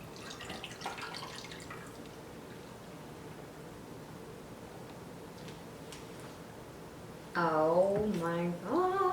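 A homemade copycat strawberry refresher drink is poured into a cup holding ice and strawberries, giving a soft, quiet liquid trickle against low background noise. A voice briefly speaks near the end.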